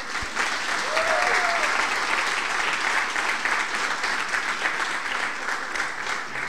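A church congregation breaks into sustained, even applause for a young boy named Estevão, steady loud clapping from a crowd that continues for several seconds.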